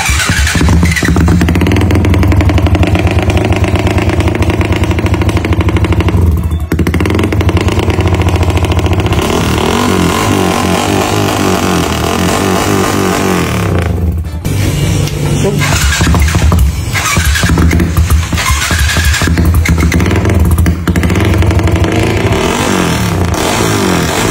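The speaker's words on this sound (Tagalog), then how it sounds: "para masubukan lang paandarin yung makina ni Batog." A motorcycle engine with a newly fitted exhaust pipe roars loudly and continuously, revving up and down in bursts, close by, with no talking.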